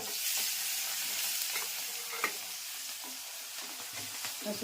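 Drumstick (moringa) pods fry in a hot tempering of mustard seeds, cumin, fenugreek, spices and curry leaves, giving a steady, fairly quiet sizzle with a few sharper pops and occasional stirring.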